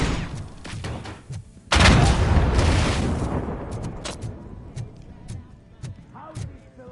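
Gunfire rips through a firefight in the Robocop video game: a sudden heavy burst of shots and booming impacts, then scattered single cracks, with shouting voices mixed in.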